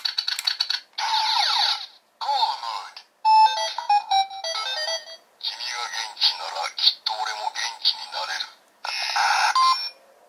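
Bright electronic tones from a Go-Busters DX Morphin Brace toy's call mode chirp in short bursts with synthesized character voice phrases between gaps, busy and close.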